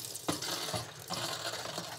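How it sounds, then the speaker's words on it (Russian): Water runs from a kitchen tap onto squid being rinsed in the sink, a soft, uneven splashing stream with small bursts as the pieces are handled. "Включаю воду."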